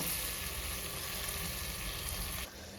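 Tamarind cooks in hot oil tempering for a Kayi Palya dish, giving a steady, dense sizzle that carries on evenly at moderate volume, close by and without talk.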